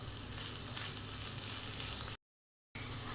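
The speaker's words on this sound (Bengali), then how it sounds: "এখন সবগুলো উপকরণ আমি ভালো করে ভেজে নিব" Ground spices, including coriander powder, garam masala and chaat masala, frying in a pan for Bengali banana flower cutlets, a dense, steady sizzle that briefly cuts to silence before resuming.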